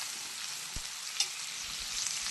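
Chopped onion frying in hot oil in a pan, giving a steady, even sizzle throughout with a couple of brief stirring clinks.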